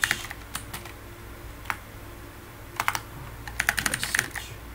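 Typing on a computer keyboard comes in short, irregular bursts of quiet, close key clicks with pauses between them, ending in a quicker run of taps.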